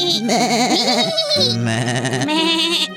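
A voice imitates goats bleating: several quavering, wavering bleats in quick succession, close and clear, with no other sounds.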